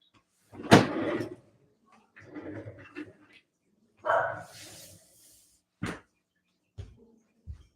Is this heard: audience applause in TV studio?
no